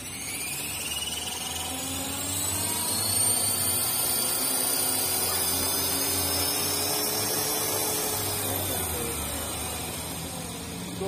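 A T-Rex 450 RC helicopter flying at night in a large town square, its high electric whine and rotor buzz sustained and fairly close, pitch sliding up and down as it maneuvers.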